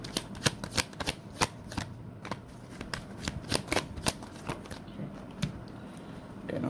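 Tarot cards are shuffled by hand in a love tarot reading, a close, crisp flurry of irregular riffling snaps and soft slaps spread over several seconds, with no talking.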